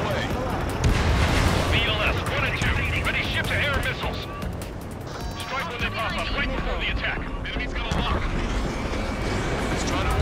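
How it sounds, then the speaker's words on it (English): Missile launches and explosions in the video game Ace Combat 7 from an A-10 cockpit view: a dense, continuous roar of engine noise, rumbling blasts and gunfire, with radio voices talking over the din throughout. "Missile away."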